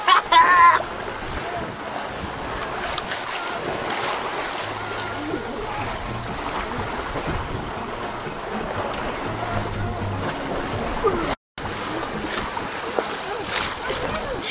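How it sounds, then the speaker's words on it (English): A sailboat with two reefs in the main runs at about six knots toward Whangaroa Heads, with steady rushing wind and wave wash filling the whole stretch and occasional voices in the background. "we're sailing down to Whangaroa Heads"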